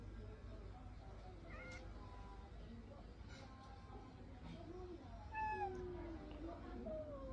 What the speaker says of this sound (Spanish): El gato del vecino se acaba de meter